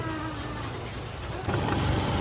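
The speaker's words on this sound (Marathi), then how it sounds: "पाऊस पाऊस पाऊस. हे पाऊस इकडे बघ." Rain falling outdoors, a dense, steady hiss that grows a little louder halfway through, with a faint low rumble underneath and no clear voices.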